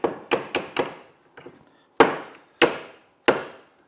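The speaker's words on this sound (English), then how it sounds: "that's where we can use our hammer again" A hammer taps wooden kitchen cabinet parts flush: a quick run of four sharp knocks, a softer pair, then three heavier, evenly spaced blows, close and crisp with no talk.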